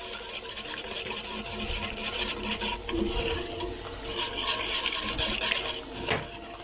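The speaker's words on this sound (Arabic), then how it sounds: "انا جبت المضرب اللي هو اليدوي ده عشان خاطر ما يكلكعش معايا." A hand whisk stirs a fenugreek and honey mixture in a pot, giving a continuous scraping, swishing rasp with faint metal clinks, close and steady for several seconds with no talk.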